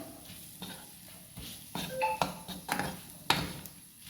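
Banana gets stirred into masala in a pan, with soft scraping and irregular metallic clinks and taps of the spoon against the pan, close and fairly quiet, the knocks growing louder toward the end.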